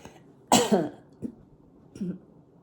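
A single sharp cough close to the microphone, followed by two smaller throat-clearing sounds, with quiet in between.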